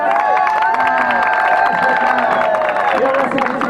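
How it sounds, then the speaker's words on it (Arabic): Crowd at an outdoor protest cheering and shouting loudly and continuously with some clapping mixed in, many voices overlapping in a dense roar close by. "تصفيقات على شبانة، تصفيقات"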